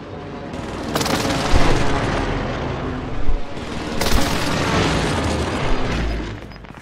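Video-game airstrike explosions: deep booming blasts roll over continuous rumbling, with two sharp, loud detonations cutting through about three seconds apart and no talking.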